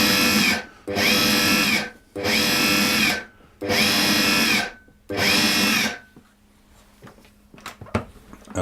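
A food processor pulses cheddar cracker dough after ice-cold water is added. Five loud, whirring bursts about a second each come at an even rhythm, followed by quieter scraping and clatter.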